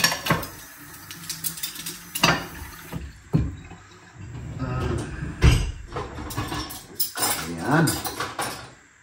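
Dishes are washed at a kitchen sink, with plates, pots and cutlery clinking and clattering in irregular bursts beside running water. A voice talks over parts of it.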